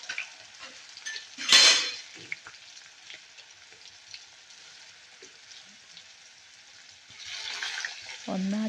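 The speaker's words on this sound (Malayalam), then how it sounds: "ഇനിയിപ്പോൾ അതിലത്തേക്ക് പെരക്കി വെച്ച ചിക്കൻ എല്ലാം എടുത്തിടേണ്ട പരിപാടിയിലാണെന്ന് തോന്നുന്നുണ്ട്." Marinated chicken pieces dropped into hot oil with curry leaves, a quiet crackling fry with a sharp sizzling burst as a piece goes in and another rising hiss near the end, brief utensil clinks and a voice talking at times.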